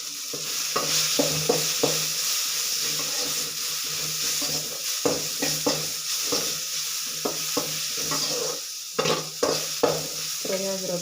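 Food frying in a pan on a stove while mushroom curry is made, a continuous bright sizzle under repeated stirring scrapes and clinks in uneven bursts, close by with no voices.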